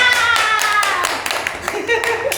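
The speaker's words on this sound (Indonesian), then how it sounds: "Tepuk tangan!" An audience at an Indonesian podcast claps in a short, fairly loud burst of scattered hand claps lasting about two seconds, with some voices mixed in.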